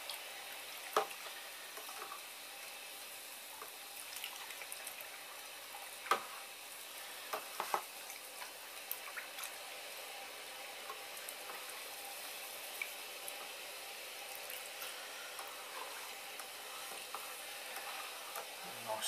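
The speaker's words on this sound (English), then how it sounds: "Nice stirring." Sugar is stirred into a large brew pot of hot wort during an all-grain homebrew day: a steady faint hiss runs throughout, with scattered light scrapes and taps from the spoon and no speech.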